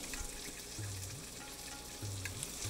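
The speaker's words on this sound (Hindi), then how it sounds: "इसको मिक्स कर लीजिए।" Paneer chilli sizzling in a hot pan as ketchup is stirred through, with a steady frying hiss, occasional spoon scrapes and low thuds close by, no speech.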